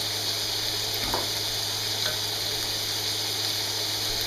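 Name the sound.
butter sizzling in a pan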